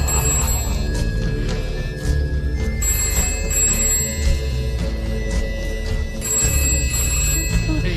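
A telephone rings repeatedly in bursts of a high electronic tone, mixed in under a dense music or soundtrack bed in a Kannada film scene, with no talk during the ringing.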